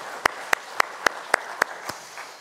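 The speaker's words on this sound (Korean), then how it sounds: "하나님 앞에 영광의 박수 올려드리겠습니다" A church congregation at Sunday worship claps together in unison, seven sharp, evenly spaced claps in a steady rhythm, the last one softer, over quiet room tone.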